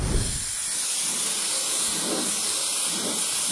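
A paint spray gun hissing compressed air, a loud continuous close hiss that holds steady throughout without pause, alone with no talking.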